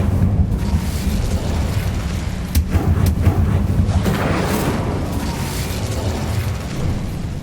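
In the game Hogwarts Legacy, an Incendio fire spell goes off in a dense, roaring blast, with a few sharp pops in the middle of a sustained rumbling burst.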